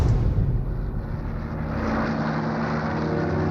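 A Typhoon fighter-bomber from a wartime battle against a German attack drones overhead: a loud, steady propeller-engine roar that swells at first and then holds as a continuous rumble, with no voices.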